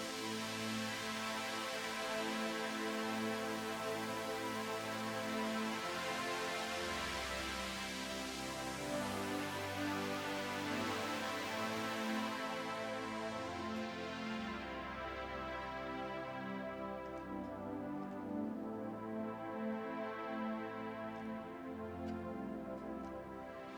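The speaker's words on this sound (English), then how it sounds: "This is Pad Thin String." A thin string synth pad preset plays in Studio One Pro 3, a sustained, bright, shimmering layered tone with slow movement and variation, steady and loud throughout with no talking.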